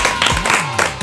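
Audience applause with clapping from a crowd, a short burst of dense hand claps close by in a studio setting, brief and steady.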